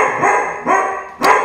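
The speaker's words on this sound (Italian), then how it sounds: "scusate il cane" A dog barks three times in quick, loud, close bursts, with no voices over it.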